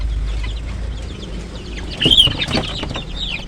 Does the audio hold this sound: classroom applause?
no